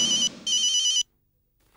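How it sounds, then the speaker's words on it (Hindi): A telephone rings in short electronic bursts, two loud trills separated by a brief gap, then stops into silence as a call is placed; a voice begins faintly at the very end. "अंजना जी को ही फोन करता हूं"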